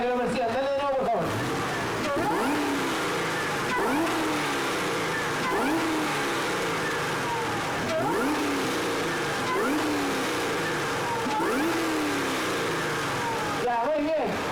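A Chevrolet Camaro engine revved repeatedly at a car show, with loud rising vroom pulls roughly every two seconds over a throaty idle, close and powerful.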